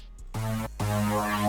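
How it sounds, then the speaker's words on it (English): Two short, deep synthesized bass notes play close and clear, the second held longer, with a buzzy, harmonic-rich tone. "So I got this little synth bass kind of thing out of the same kit"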